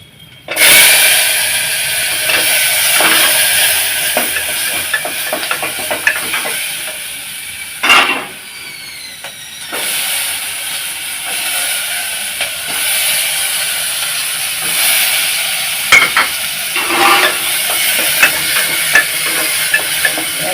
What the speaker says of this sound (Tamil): கருவேப்பிலை எல்லாத்தையும் தாளிச்சுட்டு வெங்காயத்தையும் போட்டுடலாம்